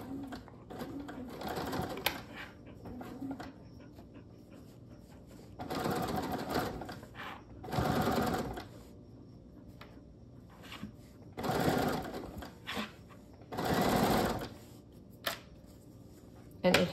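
A sewing machine with the extension table removed stitches a SnackPack bag on its free arm, running in several short bursts between pauses at moderate volume, while a person talks throughout.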